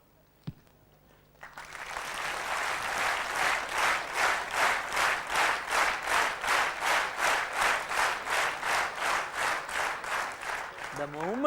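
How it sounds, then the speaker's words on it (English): Audience applause at a corporate HR induction program, a sudden burst of dense clapping from a large group that swells and continues steadily with a rhythmic pulse, loud and sustained after a brief quiet start. "you started clapping"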